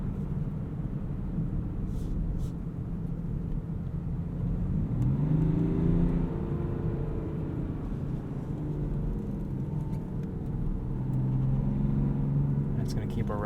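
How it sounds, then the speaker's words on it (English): A 2017 BMW X5 xDrive35d diesel engine in sport mode holds a steady low cabin rumble that swells into a rising rev around the middle, then settles and climbs again, heard from inside with talk over it. "Put it into sport mode. It's going to give us a few more revs at the higher RPMs."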